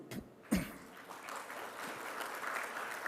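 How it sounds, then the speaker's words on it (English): An audience claps at a university presentation during an academic visit, a brief pause before applause starts and then runs on as a steady, moderately loud patter of many hands, with a cough or throat clear early on. "Give applause for Umsu."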